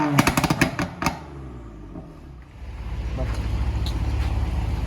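A BMW M4 with aftermarket downpipes revs up to 6000 RPM, building into a sustained loud, rough exhaust roar after a brief lull. Clicky sounds and a voice are heard nearby at the start.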